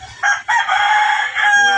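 A rooster crows loudly and close by on a farm, one long drawn-out cock-a-doodle-doo with a short break near the start, and faint low noise underneath.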